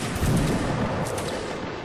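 A musket volley from a line of soldiers in a video game booms as one heavy, rumbling blast that trails off over about two seconds.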